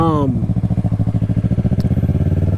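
A Yamaha R3 motorcycle with an aftermarket exhaust idles close by with a deep, loud, rapid thumping exhaust pulse, after a brief voice at the start.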